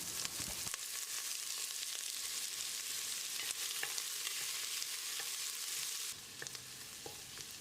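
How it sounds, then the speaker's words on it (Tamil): Onions and curry leaves fry in a pan of hot oil with popped mustard seeds, giving a steady, close hiss and crackle throughout, easing slightly toward the end. "வெங்காயத்தை லேசாக செவந்து வர்ற அளவுக்கு வதக்கிடலாம்."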